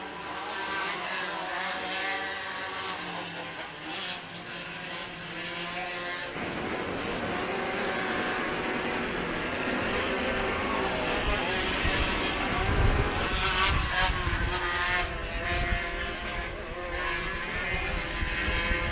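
Modified karts race around Glen Helen Raceway in a 2022 Great American Short Course round, engines droning steadily at a distance and rising as the pack passes, with a commentator talking over the whole time.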